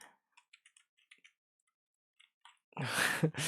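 Light taps on a keyboard come in short bursts as a chat message is typed in Valorant, then a louder rush of sound fills the end.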